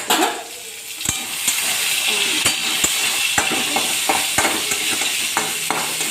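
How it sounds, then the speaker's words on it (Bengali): Kalla (a vegetable) frying in oil in a tilted wok, a steady broad sizzle with repeated sharp clicks and scrapes of a spatula stirring against the metal, close and fairly loud, with no talking. "চলুন আমি দেখি কাল্লা ভাজাটা কতটা কী হলো"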